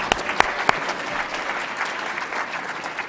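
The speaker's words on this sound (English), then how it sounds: "a round of applause?" An audience at a science communication award event gives itself a round of applause, with a dense, even burst of many hands clapping throughout and a few sharp, loud claps near the start.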